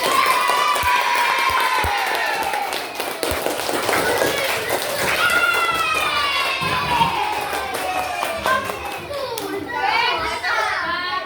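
Classroom applause from children, scattered claps and taps mixed with lively kids' voices and chatter, close and fairly loud throughout.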